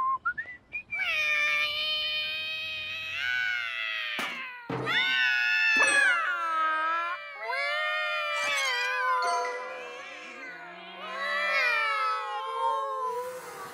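Cats outside at night meow and caterwaul in long, wavering, whistle-like yowls, loud and close, with the drawn-out cries rising and falling almost continuously and a few short breaks between them.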